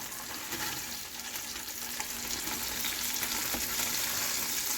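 Chopped onion sizzles in hot sausage grease in a pot, the start of a pasta e fagioli soup. A steady, crackling fry continues throughout with no talking.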